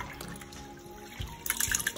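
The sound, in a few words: washing rice in water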